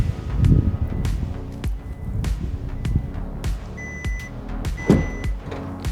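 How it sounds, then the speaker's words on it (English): A 2025 Hyundai Santa Fe smart liftgate gives two short electronic beeps close by, then the rear hatch begins to open over a low background hum. "approach the trunk of the vehicle, and just wait for it to beep."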